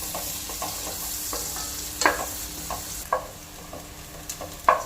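Ingredients for chicken pulao sautéed in a pan until brown: a steady sizzle with a few sharper spatula scrapes and stirs, close up and without any voices.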